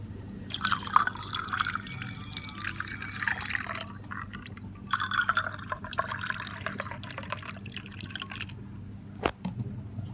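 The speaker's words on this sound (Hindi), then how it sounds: "और अब इसके अंदर हम आधा गिलास पानी का ऐड करेंगे।" Half a glass of water trickles into melon juice in a glass, pouring close and quiet in two spells with a soft splashing fill and a small clink near the end.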